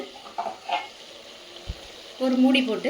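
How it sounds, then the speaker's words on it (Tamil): Vegetables are stirred in a pot of Pongal kulambu, with soft scraping and a dull knock before a louder burst of bubbling and stirring near the end, close and moderate in level without speech. "கிளறி விட்டு எல்லா காய்கறிகளையும் கிளறி விட்டு"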